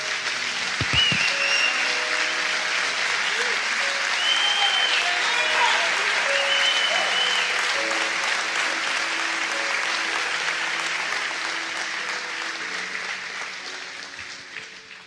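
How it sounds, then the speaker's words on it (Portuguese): A church congregation applauds, standing during an evening service; dense, sustained clapping fills the room for about fifteen seconds with scattered voices and shouts mixed in, fading toward the end. "Aplaude Jesus."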